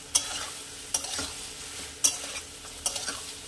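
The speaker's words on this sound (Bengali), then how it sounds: "আমি এই অবস্থায় দিয়ে দেব কয়েকটা কাজু বাদাম। দিয়ে আমি আরও কিছুটা ভাজবো" Cashew nuts frying in a pan with tomato for paneer butter masala: a soft continuous sizzle broken by four sharp clinks of a spoon stirring against the pan, close and without voices.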